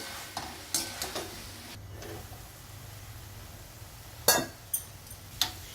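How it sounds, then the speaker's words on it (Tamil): Bottle gourd curry with coconut masala is stirred in a pan, giving a soft background sizzle punctuated by several crisp scraping strokes and taps of the spoon, near and quiet. "இதை நல்லா கிளறி ஒரு 2 மினிட்ஸ் வச்சுருக்கலாம்."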